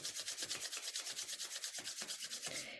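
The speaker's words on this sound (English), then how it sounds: "Rub your hands, warm them up, warm your palms up." Palms rubbing briskly together to warm the hands, a steady rhythmic swishing friction of about twenty quick strokes, close and fairly loud with no talking.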